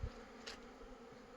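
Bees hum faintly around a hive in winter, a low, quiet buzz with a brief louder pass as one flies close, otherwise a soft steady background.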